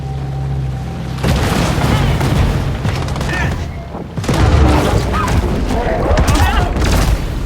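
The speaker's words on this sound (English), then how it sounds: "The influencing machine is destroyed." In the shark game Maneater, a machine blows up in a series of heavy booms and crackling blasts, loud and layered, with a second burst of explosions after a brief dip.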